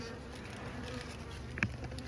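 A swarm of European honeybees gives off a steady droning buzz that stays faint and even throughout, with one brief closer tick near the end.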